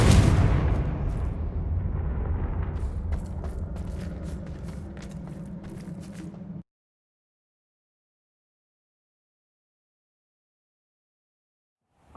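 A fiery Confringo spell blast in Hogwarts Legacy erupts loudly at the start and rumbles away over several seconds with crackling debris, then cuts off into silence before a faint sound returns at the very end.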